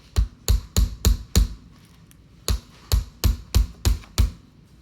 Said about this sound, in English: You can't look the other way while you're hammering.